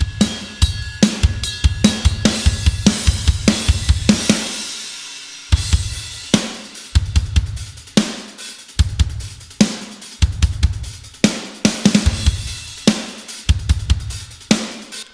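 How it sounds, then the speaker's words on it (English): Soloed drums recorded in a small room hit with punchy kicks and an explosive, cracking snare, the pattern repeating in short bursts with brief gaps, the room reverb ringing around each hit, loud and clear with no voices. "just so you can hear the drum sound on their own"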